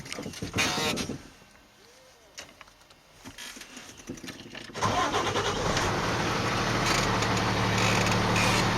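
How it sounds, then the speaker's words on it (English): A Class B truck's diesel engine cranks briefly and then catches, settling into a loud, steady diesel idle rumble that continues to the end. "I will safe start my engine."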